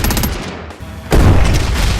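Cannon blasts and rapid gunfire in a zombie survival game, dense repeated shots and booms that drop briefly then return with a louder heavy burst.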